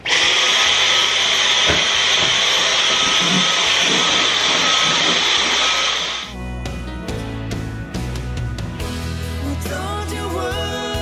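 A vacuum cleaner cleans a kitchen during a spring clean, running loud and steady for about six seconds before it cuts off, leaving clinks and rattles.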